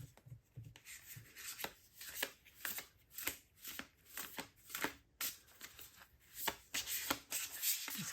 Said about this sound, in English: These cards are almost too big for my hand. It's hard for me to shuffle them.